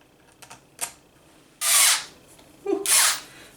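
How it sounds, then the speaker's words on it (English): After a few faint clicks, a small power drill drives a long screw into a Traxxas Maxx RC truck suspension, whirring in two short, loud bursts, briefly slowing and catching between them. "I'm not used to using this little drill"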